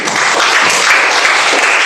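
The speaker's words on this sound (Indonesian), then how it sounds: "tepuk tangan untuk Fitri" A class of students bursts into loud, continuous applause for a classmate named Fitri, a steady, close wash of clapping with no talk over it.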